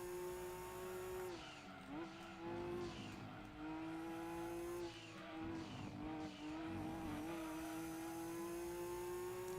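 A race car engine in Gran Turismo 2, droning steadily at high revs with brief dips at gear shifts and recoveries, while tire squeal and skidding noise break through in bursts, all heard without any voices.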